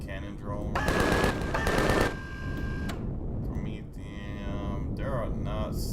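Bursts of rapid mechanical gunfire from a cannon drone in the video game Empyrion, a rattling automatic volley followed by further electronic weapon sounds, with talking mixed in.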